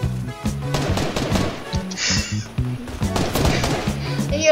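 Rapid bursts of gunfire from the video game Fortnite crack in quick succession over steady game music.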